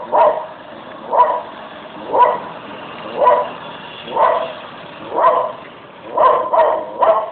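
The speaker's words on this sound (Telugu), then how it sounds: "డాగ్ గొడవ పడుతుంది." A dog barks in a steady rhythm, about one bark per second, fairly close and loud, with a quick double bark near the end.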